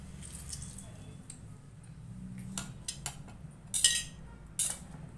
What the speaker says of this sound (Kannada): ಒಂದು ಸೇರಿಸ್ತಾ ಇದ್ದೀನಿ ಹಿಂಡ್ಬಿಟ್ಟು ಒಂಚೂರು ಕಲಿಸ್ಕೊಳೋಣ